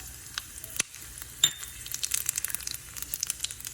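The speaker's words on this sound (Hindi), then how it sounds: "हमारा पैन गर्म हो चुका है। सबसे पहले डालेंगे इसमें ज़ीरा" Whole cumin and round red chillies crackle and sizzle in a hot pan for chana dal, with sharp pops and spits scattered over a steady frying hiss and a few light metallic clinks, close and fairly quiet.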